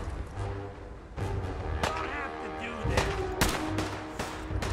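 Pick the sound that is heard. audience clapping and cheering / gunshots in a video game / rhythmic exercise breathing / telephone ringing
gunshots in a video game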